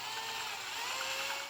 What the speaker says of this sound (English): we're going to use that same 13/32 drill bit, use the hole to help line things up, and we're going to drill this out